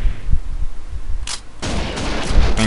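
Gunfire in the arcade light-gun game Virtua Cop 2: loud rapid shot bursts crowd together, with a sharp blast near the middle and dense firing continuing to the end.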